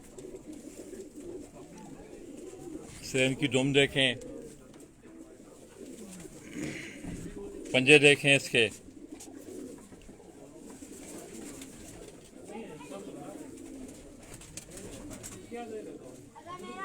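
Teddy breed pigeons coo softly in a loft during breeding season, with two louder bursts of fluttering or calling, while someone talks close by over them.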